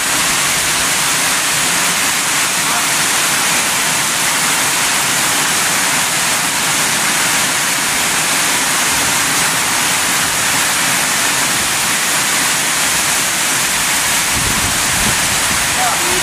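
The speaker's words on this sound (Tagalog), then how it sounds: "Ang lakas ng ulan." Steady, dense roar of heavy rain pouring down, a constant broadband wash with no pauses, close and loud throughout.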